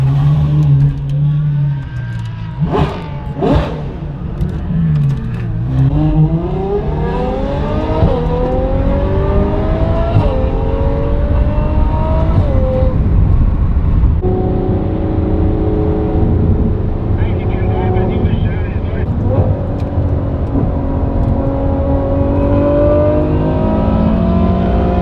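A Ferrari engine revving hard while driving, loud and close with rising and falling pitch sweeps through repeated gear pulls, a deep constant roar throughout.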